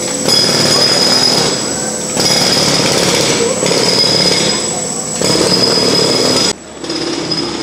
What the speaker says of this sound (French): Les marteaux-piqueurs ont remplacé les cigales,